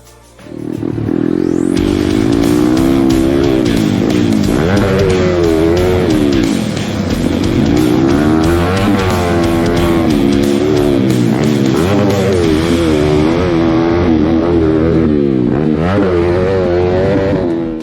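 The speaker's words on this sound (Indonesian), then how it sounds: "Kita pengetesan di motor-motor balap kita." Racing motorcycles being tested scream past and rev hard, engines rising and falling in pitch over a constant loud roar.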